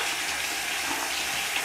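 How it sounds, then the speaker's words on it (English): Warm tap water gushes steadily over a paintbrush in a sink, a close, continuous hissing rush with no voices. "Now I'm just using just regular warm water."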